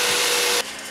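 A small hand deburring tool scrapes around the inside edge of a fabricated metal spill can, a steady bright rasping scrape that cuts off sharply near the end, close and alone.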